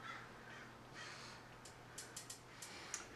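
Birds calling outdoors, several short sharp calls in the second half, moderately clear over a steady low background hum and hiss, no talking.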